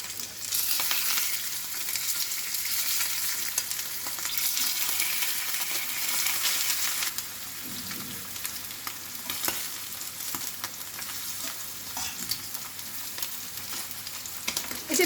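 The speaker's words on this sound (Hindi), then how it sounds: "चिकन को फ्राई करने के लिए पैन में मैं लूंगी मस्टर्ड ऑयल। बस हम शैलो फ्राई करेंगे, इसको डीप फ्राई नहीं करेंगे।" Chicken shallow-fries in mustard oil in a pan with a dense, steady close sizzle that eases slightly partway through, with occasional stirring clicks and no talking.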